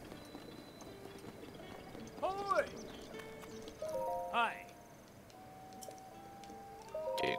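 Horse hooves clip-clopping in The Legend of Zelda: Breath of the Wild, a steady trotting rhythm under game sounds with tonal chimes and a brief whinny-like sweep, while a person speaks briefly.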